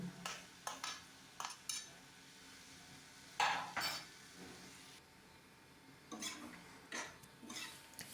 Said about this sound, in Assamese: আকৌ 5 মিনিটমান মই ধুনীয়াকৈ ল' ফ্লেমত লৰাই আছোঁ